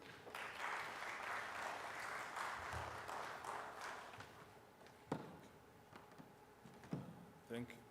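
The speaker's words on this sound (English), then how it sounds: "A hearty clap." Applause from a conference audience at an industrialization conference in Kenya, a broad patter of clapping that fades over the first seconds, followed by scattered knocks and taps.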